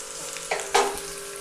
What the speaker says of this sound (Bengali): এবার এটা দিয়েও আমি আরও 1 মিনিট নেড়ে চেড়ে নিচ্ছি